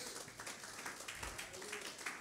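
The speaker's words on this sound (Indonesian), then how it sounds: "Tepuk tangan dulu buat Tuhan Yesus" Church congregation clapping during a worship service at GBI Mekarsari, a faint but steady patter of many hands with scattered individual claps.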